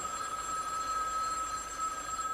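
A telephone rings with a steady electronic bell tone, close and clear over a quiet background, with no talk.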